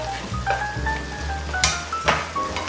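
Perilla leaf shoots simmer in a little liquid with perilla seed powder while being stirred in a pan: a close, steady sizzle with brief scraping strokes and a faint tonal whine in the background.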